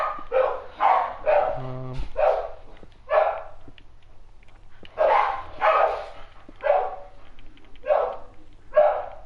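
Dogs bark repeatedly in a brisk, uneven series of sharp yaps, fairly loud and close, continuing through the whole stretch with no talking over them.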